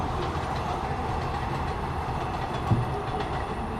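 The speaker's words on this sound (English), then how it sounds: "As the train rolls by" A train rolls past near a cricket ground during a Champions Trophy match. Its steady rumble and wheel clatter fill the whole stretch at a fairly loud, even level, with one brief thump partway through and no speech.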